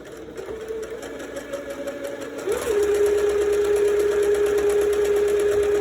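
A sewing machine stitching a fabric face mask with a metal nose piece hums steadily and close by, then speeds up slightly into a louder, even whir that runs without a break.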